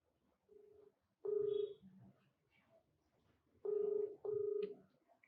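An outgoing telephone call gives a short tone first, then two pairs of clear ringback bursts separated by quiet gaps, all at a modest, even level.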